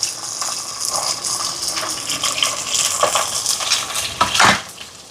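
Shallots, garlic, curry leaves and dried chillies fry in a pan for a crab curry, giving a loud, continuous sizzle with a few utensil clinks and scrapes.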